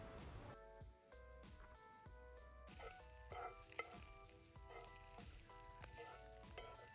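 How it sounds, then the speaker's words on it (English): Oysters fry in a cast iron pan with a steady, crackling sizzle, stirred now and then with soft rhythmic scrapes, close and continuous throughout. "Fry it in batches so that it doesn't stick around."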